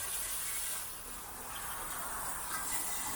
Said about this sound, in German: werde ich auf jeden Fall jetzt mal alles mit Bremsenreiniger entfetten